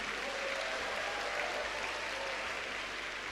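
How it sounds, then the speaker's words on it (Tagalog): Sustained applause from a church congregation during a service, a dense, even wash of clapping from many hands without pause, moderately loud throughout. "Lakasan niyo po yung palakpak niyo."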